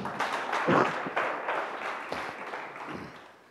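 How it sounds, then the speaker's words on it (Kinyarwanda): A church congregation claps together during a worship service, a dense, loud burst of applause that swells early and then gradually thins and fades. "Dukomere Imana yacu amashyi."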